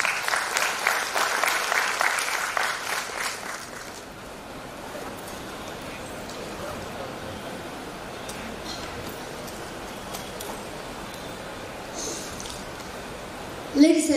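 An audience at a classical music festival in a town hall in Mangalore gives a sustained, even round of applause. It is fairly distant and steady, fuller at first, then settling into a constant wash until a brief louder burst at the end.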